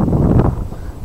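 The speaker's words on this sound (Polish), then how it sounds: "Mamy silny wiatr" Strong wind buffets the microphone outdoors near beehives around a rapeseed field, a loud continuous low roar and rumble with gusts swelling and fading across the short stretch, no speech over it.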